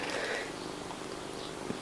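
Domestic cat named Joey purring close by, a soft continuous rumbling purr throughout with no talk over it.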